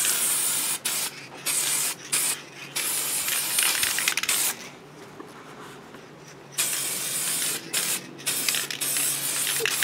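Chrome spray paint hisses from an aerosol can onto the inside of a clear cosplay lens, in several sustained close bursts separated by brief pauses, with a quieter stretch in the middle.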